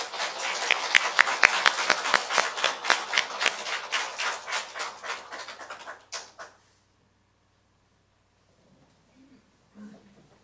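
A church congregation at a Christmas service claps for the accompanist, a brisk, even burst of applause for about six seconds that cuts off into near silence with a faint sound near the end.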